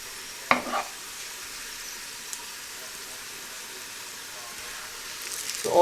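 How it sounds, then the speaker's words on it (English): Soft, steady sizzling of onions frying in oil in a pan, with a couple of brief stirring clatters near the start and end. "just some onions which I can do with a little bit more frying"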